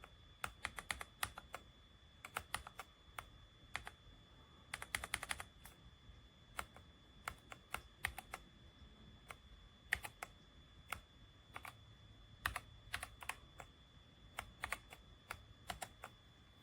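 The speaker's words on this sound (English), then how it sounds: "this is the loudness of the keyboard." Keys clatter on a SteelSeries Apex Pro Gen 3 keyboard with OmniPoint 3.0 HyperMagnetic switches: sharp, close clicks in irregular bursts with short gaps between them, fairly quiet overall and without any talk.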